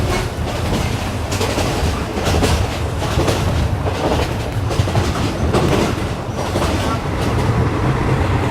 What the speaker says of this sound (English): you want to hear the wheels grinding against the railway tracks